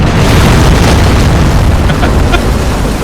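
Planted bombs exploding in the Robocop video game, a loud sustained roar of overlapping blasts filling the whole stretch, dense and close with no talk.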